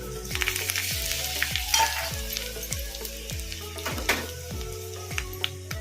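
Oil sizzles steadily with crushed garlic, green chillies and curry leaves frying in it for brinjal sambar tempering, a loud continuous crackle, while a stirring spoon scrapes now and then and music plays underneath.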